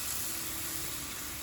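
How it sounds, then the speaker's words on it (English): Wine poured into a hot paella pan to deglaze it hisses and sizzles in a dense, even wash of steam and bubbling that holds steady throughout, close and fairly loud. "You're gonna deglaze that pan"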